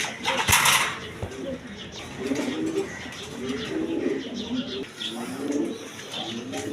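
Satin pigeons, a fancy breed kept for sale, coo in soft repeated low rolling phrases at close range, with a brief sharp knock near the start.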